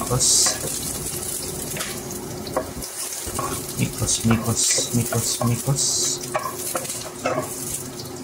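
Garlic sizzles while frying in a pot, a steady close crackle under a person talking, with a few scraping stirs and clinks from the cooking.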